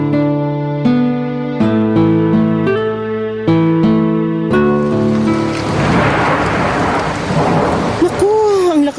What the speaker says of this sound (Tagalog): Ng ulan sa labas ng bintana